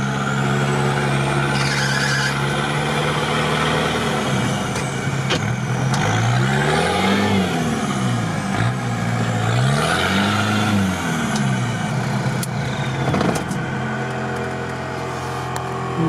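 Off-road truck crawling in low-range gear at idle, a steady loud engine drone with low harmonic sweeps as the load shifts, continuous throughout with no talk.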